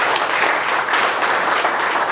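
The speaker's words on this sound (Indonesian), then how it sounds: "Tepuk tangan buat Tuhan." A church congregation claps loudly together during a sermon, a brief dense burst of applause filling the hall for about two seconds with no voices over it.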